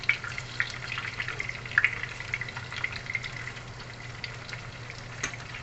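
Onion frying in a pan ahead of beef for a Filipino beef steak, a steady soft sizzle with faint crackles and pops running throughout, alone with no talk.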